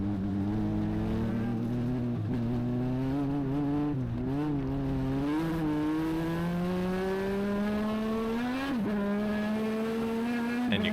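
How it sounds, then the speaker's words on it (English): A race car engine drones loudly on a wet track at New Hampshire Motor Speedway, its pitch climbing steadily through the gears with a brief dip and recovery, continuous throughout. "you can even hear the engine rev to the moon"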